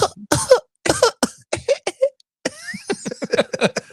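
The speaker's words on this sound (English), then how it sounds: "Do we have his cough on?" A string of harsh, rasping coughs, close and loud, in uneven bursts with short pauses between them.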